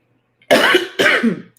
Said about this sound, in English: Got a little cough today.